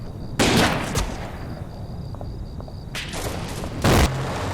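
Shelling and sniper fire in the World War II strategy game Combat Mission: Red Thunder: three loud bursts of cracking gunfire and booms over a steady battlefield rumble and a faint tonal hum.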